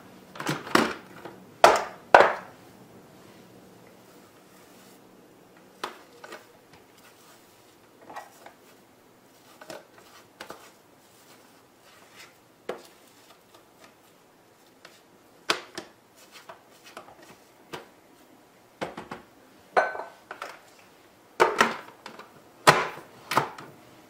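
Raw vegan mock tuna pate ingredients are mixed in a bowl, producing irregular sharp knocks and scraping taps spread across the stretch with quiet gaps between, no talking.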